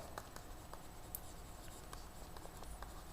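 Faint pen-on-paper scratching during a worked math problem, quiet little strokes and taps in an otherwise hushed room.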